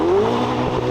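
A Ferrari 488 GTB engine revs briefly and loudly up close, a rising engine note that fills the short moment with no talking.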